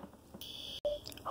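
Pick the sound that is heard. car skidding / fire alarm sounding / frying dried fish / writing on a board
fire alarm sounding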